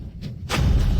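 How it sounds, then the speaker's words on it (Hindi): A magic lightning explosion effect in a Hindi action drama, a short crackle followed by a loud, deep booming blast that rolls on with a low rumble. "जादुई बिजली बुलाओ। विस्फोट।"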